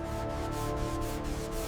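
Hand sanding on a 1928 Martin Aerodynamic guitar, a steady continuous rubbing scrape with a rhythmic back-and-forth pulse about every quarter second, close and moderately quiet, with no talking.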